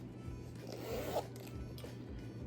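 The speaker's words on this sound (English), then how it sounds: "it has a zipper closure" A zipper on a brown handbag with a detachable vaqueta leather strap is drawn open in one steady pull, close and fairly quiet, with a soft rasp over a low room hum.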